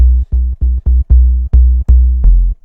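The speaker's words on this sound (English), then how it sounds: "I'm just going to put soft clip and then just play around with the drive" Serum sine-wave synth bass pushed through soft-clip distortion plays a punchy, rhythmic run of short, loud notes with gritty upper harmonics.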